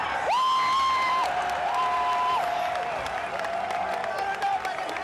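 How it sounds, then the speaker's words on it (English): A tournament crowd at a fighting game match, reacting as a player picks Hakan, roars with sustained cheering and applause, loud and continuous, while sliding electronic tones ring over the noise. "I'll just let you listen to the crowd when Infiltration moved his cursor to Hakan."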